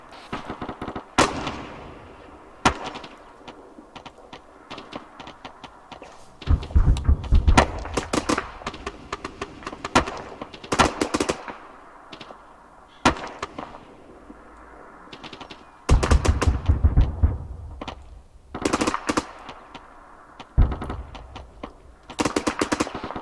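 Grenade machine gun fire in the video game Arma 3, bursts of rapid thumping shots and crackling impacts recurring every few seconds, loud and punchy against quieter background gunfire; no talk.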